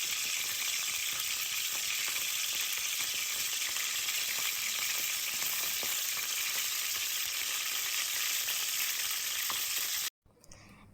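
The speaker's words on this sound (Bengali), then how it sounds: "আমার মাছগুলো কিন্তু ভাজা হয়ে গিয়েছে" Fish frying in hot oil, a loud, dense, steady sizzle close up with no talk, cutting off abruptly near the end.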